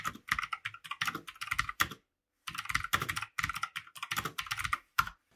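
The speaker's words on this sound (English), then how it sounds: "a little sound test now so that you can see what they sort of sound like when you're typing" Rapid clacky keystrokes on a budget $39 Kmart mechanical keyboard in close, steady bursts, with one brief pause midway and no talking.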